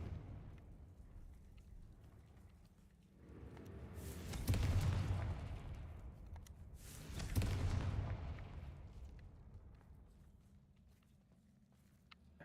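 Two heavy explosive blasts from the Confringo spell in Hogwarts Legacy erupt a few seconds apart, each a deep rumbling boom that swells and fades over a quiet background.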